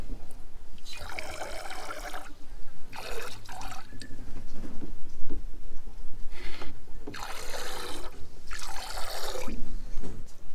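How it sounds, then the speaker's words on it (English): Goat's milk squirted by hand into a bowl during the first milking: a steady rhythm of sharp, hissing liquid jets, each burst splashing close and loud with brief pauses between strokes. "we're going to squirt the first milking into this bowl"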